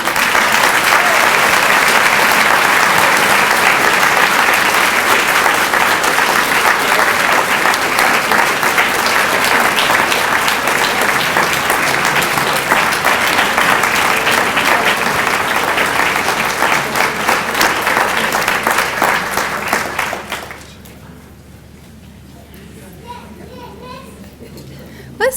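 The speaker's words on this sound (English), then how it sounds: "Let's give one more round of applause for Mr. A. Mitchell" A large audience at a National Society of Collegiate Scholars ceremony claps in a loud, dense, sustained round of applause for about twenty seconds before it stops abruptly, leaving quiet room noise.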